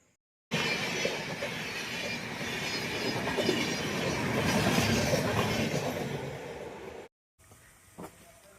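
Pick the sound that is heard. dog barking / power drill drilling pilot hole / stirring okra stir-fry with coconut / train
train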